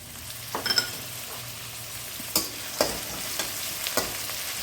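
Chopped onion frying in a pan for chire pulao, with a quiet sizzle under a few sharp spatula scrapes and taps against the pan.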